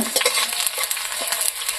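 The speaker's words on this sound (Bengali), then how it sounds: "মরিচটা একটু মানে লাল লাল করে নিব তারপর একটু ফোড়ন দিব" Red chilies frying in hot oil for a tempering, a steady close sizzle with light stirring scrapes throughout.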